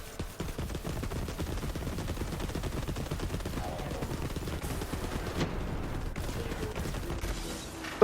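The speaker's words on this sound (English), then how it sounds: "Hey, who called in the artillery?" Artillery bombing raid in the shooter Borderlands 3, a dense, continuous rattle of rapid gunfire and explosions at moderate, steady loudness with no pauses and no voices.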